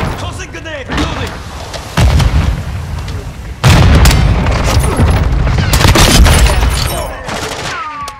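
Grenade blasts and gunfire in Modern Warfare II: heavy booming explosions, the biggest hitting near the two- and four-second marks, over continuous rattling rifle fire and a dense battle din, loud and close, with no speech.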